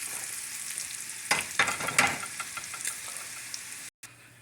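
Onions and jardinera peppers frying in a pan for a patty melt, a steady close sizzle with a few louder crackling bursts and stirring scrapes around the middle, then a brief dropout near the end.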